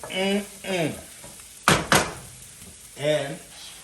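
Carrots are tipped into a hot pan of caramelized vegetables for vegan chow mein, giving a short burst of sizzle and stirring between brief spoken bits, with a clack of utensil against pan.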